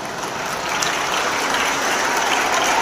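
An audience claps for singer Senthildass Velayutham, a loud, dense and continuous wash of applause that holds steady throughout, with no talking over it.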